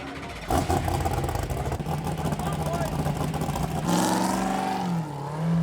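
Engine of a Baja 1000 race truck revving loudly and steadily as it pulls out of the pit at night, its pitch climbing near the end, with people talking over it.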